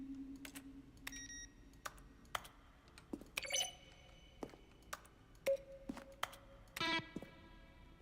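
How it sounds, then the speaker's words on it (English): Button sounds from The Stanley Parable video game, each a crisp keyboard keystroke blended with a short synthesized tone, arrive as a string of irregular, separate clicks and beeps against near silence. "each one is a mix of a keyboard stroke and a synthesized tone"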